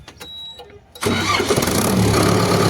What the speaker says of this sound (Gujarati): એકદમ આરામદાયક સ્ટાર્ટિંગ છે, સ્મૂથ સાઉન્ડ છે, કોઈ ખોટો અવાજ નથી